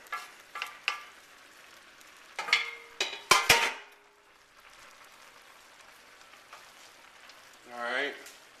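Squash and onions frying in a pan, with bursts of sizzling and clattering stirring up close, louder spurts around the middle and a fading hiss between them, and a voice speaking near the end.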